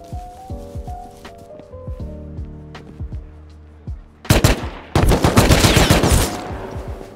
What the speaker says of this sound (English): Put my AK to use.